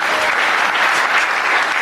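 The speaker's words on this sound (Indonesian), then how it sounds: "Tepuk tangan dong saudara" A church congregation at a New Year service bursts into loud, dense applause, a continuous wash of many hands clapping together with a faint crowd murmur beneath.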